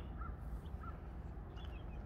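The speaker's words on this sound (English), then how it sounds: "There's some birds, little birds" Crow-like caws and small bird calls by a river with a bridge in view, a few short calls standing out over a steady outdoor rumble.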